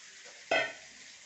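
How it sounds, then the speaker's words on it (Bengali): Vegetables drop into hot oil for a vegetarian Bengali home-cooked lunch, with green chillies already in the pan, giving one sudden loud sizzle that flares briefly and fades to a steady low frying hiss. "এখন এই তরকারিগুলো ছেড়ে দিলাম।"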